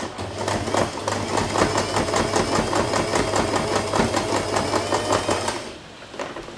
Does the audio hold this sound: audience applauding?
no